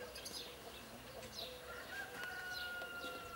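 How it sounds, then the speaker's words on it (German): Rooster crowing in the background of a rural farm village in Silesia, faint and distant among outdoor ambience, with a few brief calls over about three seconds. "Da ist ein Hahn im Hintergrund zu hören."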